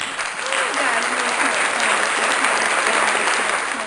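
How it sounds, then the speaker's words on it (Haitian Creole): Applause from a gathered group, a continuous wash of clapping with a voice calling out over it and a faint tonal hum beneath, sustained at steady loudness throughout. "Un gros applaudissement guys."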